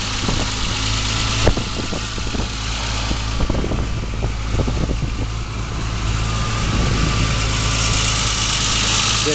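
The original engine of a BMW M635 M1 runs close by with a steady, rumbling idle and a slight lift in revs, alone without talk.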